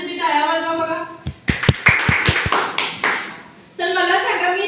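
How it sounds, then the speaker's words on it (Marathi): Students in a classroom clapping for classmates, a short burst of scattered hand claps and taps between stretches of a teacher's speech. "त्यांच्यासाठी टाळ्या वाजवा बघा"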